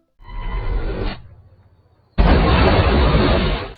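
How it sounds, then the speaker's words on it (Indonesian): Two loud, booming blasts of a pineapple hand grenade explosion in a film, the first rumbling and fading, the second a harsh, sustained roar of debris, close and powerful. "Granat nanas dari si Dragon"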